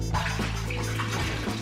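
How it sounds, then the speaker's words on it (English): Water poured out of a pan while cooking fish, a short splashing, gurgling flow heard close over a low background hum. "you can pour that water out."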